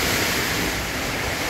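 Strong typhoon wind in Daet roars steadily, buffeting the microphone with a loud, continuous rushing noise, like a storm gust that doesn't let up.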